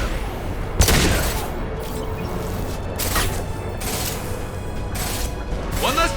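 Weapon fire in Mass Effect 2's Lair of the Shadow Broker, with several sharp, loud high-impact shots spaced about a second apart, each cracking over mechanical clatter and a busy combat backdrop.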